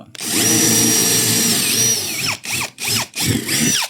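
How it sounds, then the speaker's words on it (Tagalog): A handheld power drill whines loudly and close as it bores into an aluminum 38 series panel frame, one long steady run followed by three short bursts as the trigger is pulsed. "And then we will drill it here."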